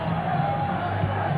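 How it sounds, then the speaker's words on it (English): A jam-packed crowd of football supporters in Dundee greeting their team, a loud continuous roar of cheering and whooping with some indistinct voices mixed in. "a jam-packed crowd"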